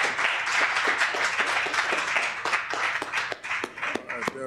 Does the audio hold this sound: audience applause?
yes